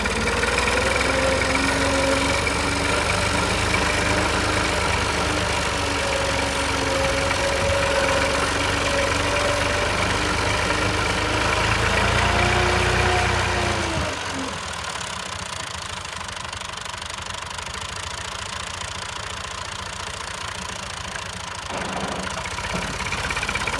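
A tractor engine idles steadily on a farm for about fourteen seconds with a loud, even mechanical hum, then drops to a quieter, lower running rumble for the rest of the clip.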